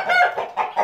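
Crossbred chickens cluck close by in a short, rapid run of three or four calls.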